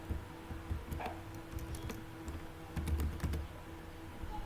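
Typing on a computer keyboard: a close, quiet run of irregular key clicks and taps, with a brief denser burst near the end and no speech.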